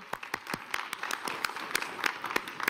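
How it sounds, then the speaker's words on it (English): Scattered applause from an audience at the World Economic Forum 2025 session, a modest, uneven patter of individual claps at moderate distance with a little voice in the background. "Warm applause."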